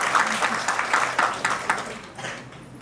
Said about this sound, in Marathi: तिच्यासाठी एकदा टाळ्यांचा गजर झाला पाहिजे